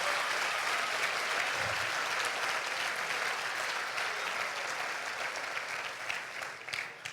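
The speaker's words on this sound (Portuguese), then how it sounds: "dê uma forte salva de palmas." A church congregation breaks into loud, sustained applause during a sermon, dense clapping filling the space and tapering slightly near the end, with no voices over it.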